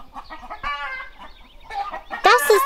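Several cartoon chickens cluck and squawk close by in short, uneven bursts, rising to louder agitated calls at the end.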